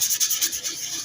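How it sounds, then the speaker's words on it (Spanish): Sandpaper rubs against the front brake hub of a 110 cc motorcycle, a close, continuous abrasive scratching in quick back-and-forth strokes with no talk. "Pegamos una lijadita."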